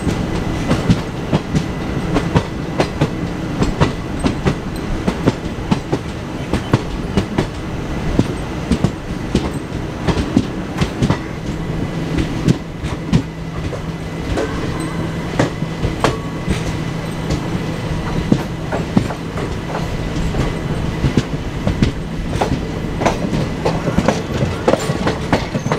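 Kanyakumari Express passenger train running on rails toward Madurai Junction after leaving Tirunelveli, a steady, loud rumble of carriages with continuous wheel clatter and rattling throughout, with no voices.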